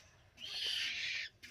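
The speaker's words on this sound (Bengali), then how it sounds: "এই যে পাখি ছোটো ভাইটা পাখির ডিম নিয়ে এসে বাচ্চা ফুটাইছে মুরগি দিয়ে।" A young wild bird, hatched from an egg placed under a hen, gives a single close, thin, rasping hiss-like call lasting about a second, followed by a brief quieter note.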